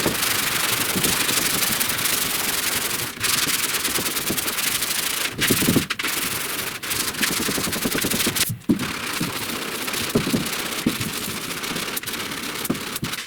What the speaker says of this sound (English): my second pass of priming and block sanding is done on the center area here